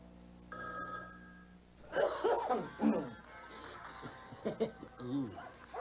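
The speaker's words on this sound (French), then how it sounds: "tu devrais prendre quelque chose pour ta toux" A phone rings briefly, then a person coughs several times in rough bursts, close and fairly loud.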